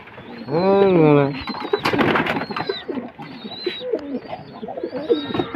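Pigeons coo close by in soft, throaty bursts, with people talking over them and some brief fluttering.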